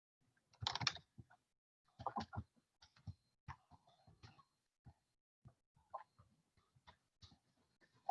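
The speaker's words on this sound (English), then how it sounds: "now you can see that I typed a little text in there" Sparse keystrokes on a computer keyboard while a short line of text goes into a new Google Doc, tapping in small irregular clusters with pauses between, quiet and close with no talking.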